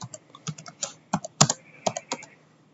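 Rapid typing on a computer keyboard, close and crisp: a quick burst of uneven key clicks and taps over a couple of seconds, with one sharper stroke near the middle, in an otherwise quiet room.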